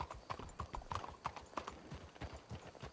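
Horse hooves clip-clopping on ground in the video game Red Dead Redemption II, a brisk run of sharp, close hoofbeats in an uneven gait, with a faint snort or whinny and no speech.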